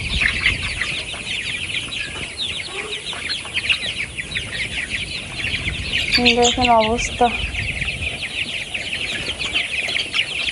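Many farm chickens crowd around water pots, clucking and chirping in a constant busy chorus, with one louder call rising midway and someone speaking briefly over them.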